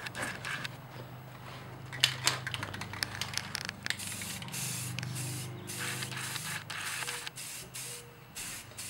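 Spray paint hisses onto an Iron Man MK 38 helmet for a light first coat, in repeated short close bursts with clicks and pauses between passes, no talking.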